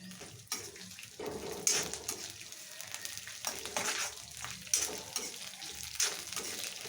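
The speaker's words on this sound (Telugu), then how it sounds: "ఇప్పుడు చిటపాటు వస్తున్నాయి కదా" Ivy gourd pieces crackle and sizzle as they fry in hot oil with curry leaves and peanuts, steady frying noise broken by a few stirring clatters, close and fairly quiet, with no talking.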